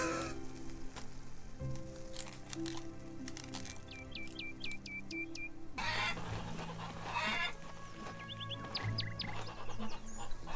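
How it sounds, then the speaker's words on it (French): A hen in the farming game Farmer's Dynasty clucks in short repeated bursts over a low hum of background game ambience and music, fairly faint throughout. "Ah, une nouvelle poule."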